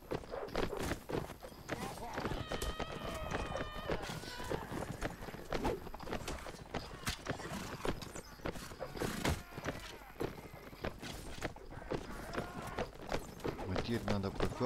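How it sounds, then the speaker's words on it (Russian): Riderless horse galloping in the medieval combat game Mount & Blade: Warband, with repeated hoof clip-clops amid busy battle noise and someone talking over it. "Уже лошадь это самое, Тамарина лошадь уже без всадника."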